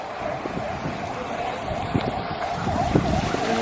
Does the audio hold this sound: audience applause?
no